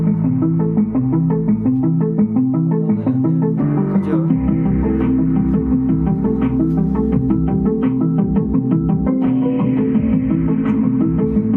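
Bass music plays through a 15-inch speaker driven by an amplifier, a loud, continuous low-end groove with thumping rhythmic beats and steady tonal notes, heard alone without talk.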